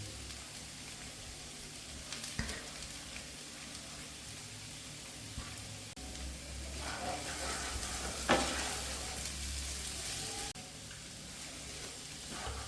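A potato and soybean masala cooks on a medium flame with a faint, steady sizzle, broken by occasional soft scrapes and knocks as it is stirred in the pan.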